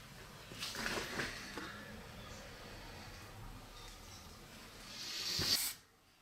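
Spray can applying clear coat to an axe outdoors, a faint hissing spray in short bursts over quiet background, ending with a stronger hiss before it cuts off.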